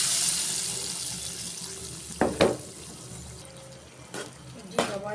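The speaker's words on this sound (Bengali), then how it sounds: "কষানো হয়েছে, এখন জল দিয়ে দিব।" Water is poured into a cooking pot of sour taro-root and prawn curry, a soft steady trickle with a few louder splashes and clatters near the end.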